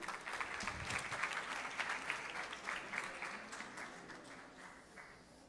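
Audience applause at a school project presentation, a steady wash of many hands clapping that slowly fades over several seconds.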